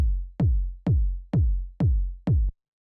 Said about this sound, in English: It's just this like really punchy kind of like 909 style kick.